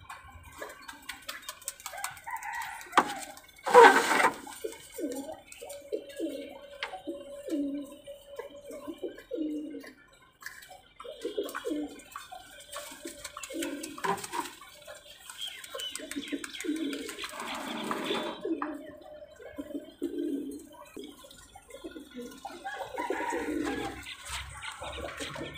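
High flyer pigeons coo repeatedly at a large loft of more than 250 birds, soft rolling calls overlapping close by and continuing throughout with little else around them.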